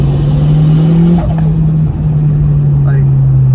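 Budget turbo car engine breathing through a 3-inch pipe with a 4-inch K&N filter intake, a loud steady idle drone that dips briefly, with a voice talking over it.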